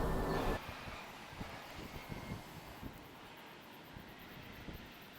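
Wind rumbles and buffets against the microphone in uneven gusts, a low blustery roar with occasional thumps and no speech.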